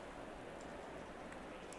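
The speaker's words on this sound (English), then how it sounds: "I just noticed some rain dropping, and it looks like it is raining right now at the start" Rain falls steadily as a dense, even hiss at the Monza circuit in a racing video game, with a few faint droplet ticks and no talking.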